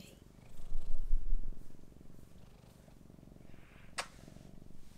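A cat purrs close by in a quiet indoor room, a soft rhythmic rumbling that swells then settles, with a brief sharp noise near the end.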